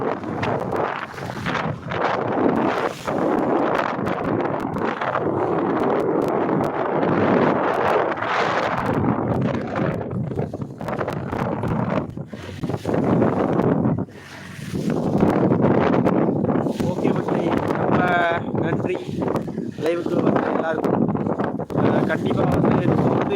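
Strong wind buffets a fishing boat at sea on the Bay of Bengal, a loud continuous roar with gusts and rustling, and people talk over it.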